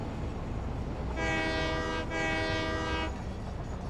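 Train horn in the Satisfactory video game: a single sustained, rich honk lasting about two seconds with a brief break in the middle, loud against a steady low rumble of train movement and ambient noise.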